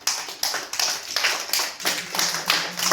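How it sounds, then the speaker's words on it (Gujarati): Children at a Nandghar anganwadi centre in Deesa clap their hands in an uneven, rhythmic series of sharp bursts, several claps close together, moderately near and without speech. "ચલો તાળી પાડો બધા"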